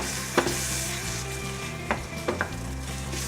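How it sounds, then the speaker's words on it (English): Garlic goes into marinara sauce sizzling in a pan, a steady close hiss with a few sharp clinks and stirring knocks, and no talk. "Got some liquid in there, we can throw in the garlic"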